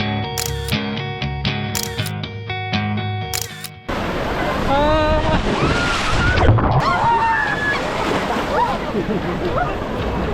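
Ocean waves wash onto a beach in Busan, a broad steady surf roar after a stretch of music, with wind and distant voices mixed in.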